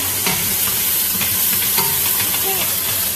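Onions searing in a hot frying pan for ramen noodle soup, a steady loud sizzle with scattered pops and a stirring scrape or two, close and continuous with no talking.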